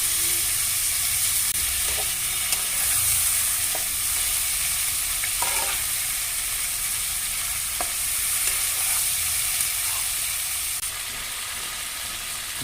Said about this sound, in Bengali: হালকাভাবে ভাজা হচ্ছে।